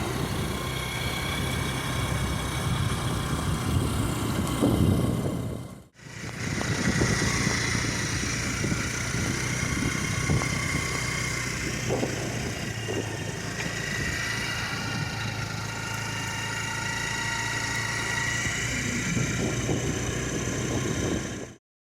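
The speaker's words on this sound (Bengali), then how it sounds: "এই যে এখন বৌদি আর আমি যাচ্ছি বৌদি নতুন স্কুটি চালাচ্ছে" A new scooter rides along with a steady low engine hum and road rumble, a brief dropout near the start, then a continuous even drone with no talking.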